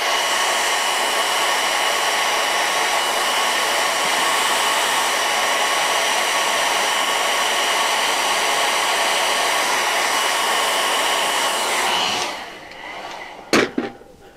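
A hair dryer blows loud and steady over a watercolor painting for about twelve seconds, then switches off, followed by a couple of sharp knocks in the quiet.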